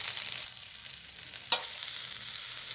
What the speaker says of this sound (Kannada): ಈ ಥರ ಆಯಿಲ್ ಹಾಕಿ ಸಣ್ಣ ಉರಿಯಲ್ಲೇ ಫ್ರೈ ಮಾಡಬೇಕಿದು